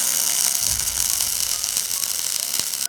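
Stick welding with a welding rod to burn in and fill a gap in a metal fabrication joint: a steady, loud crackling sizzle that runs unbroken throughout, with no talk.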